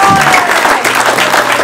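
A brief burst of crowd applause, close and fairly loud, with some murmuring mixed in.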